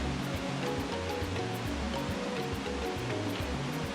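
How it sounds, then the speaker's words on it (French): Picturesque river rapids and waterfalls rush in a steady, dense roar, loud and continuous throughout, with no voices. "Des rapides pittoresques et des cascades sont la principale attraction de ces lieux où les chants d'oiseaux se mêlent au clapotis des eaux"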